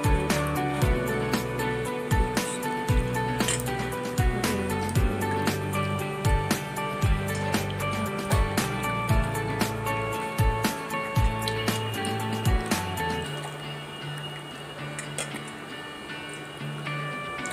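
Water poured and splashing in a steady run of small bursts while small deity idols are bathed, close and clear, thinning out toward the end.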